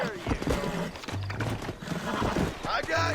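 A horse in the Red Dead Redemption video game, heard as snorts, clopping hooves and a whinny amid game noise, with someone talking over it.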